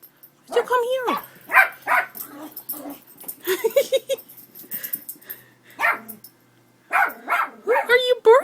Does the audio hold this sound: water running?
no